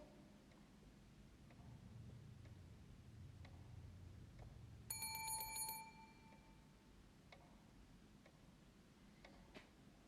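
A doorbell rings once, a bright metallic ring of about a second, inside a hotel in the horror video game The Devil in Me. Faint ambient game tones and soft ticks continue around it, and no one speaks.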